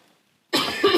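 A single short, sharp cough after a moment of near silence, close and fairly loud.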